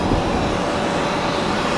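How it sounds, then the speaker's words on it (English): An Airbus A220 airliner lands, giving a loud, steady roar of jet engines that holds unchanged through the whole stretch with no other sounds. "It's the new A220 on the Boston route today."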